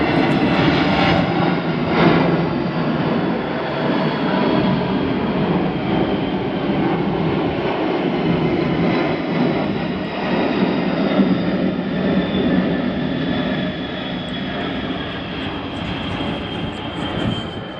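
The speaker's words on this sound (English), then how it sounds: "A few planes coming over. There's an Air Force base up the river at Richmond." Large planes from a nearby Air Force base roar overhead, a loud, sustained broad engine rumble that slowly eases off toward the end, with no talking.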